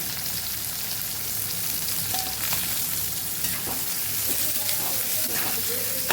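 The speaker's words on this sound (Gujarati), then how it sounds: "ડુંગળીને સાંકળી લેવાની છે આપણે" Sliced onion sautés in a pan with cumin, fennel seeds and asafoetida for a bitter gourd curry, giving a steady, close sizzle with occasional stirring scrapes and clicks throughout.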